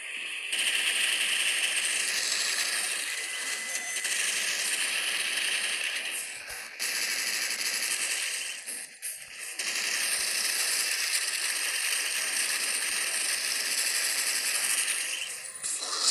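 An automated turret in the shooter game Dead Trigger firing continuously, a dense fast rattle of gunfire that runs nearly unbroken with two brief dips.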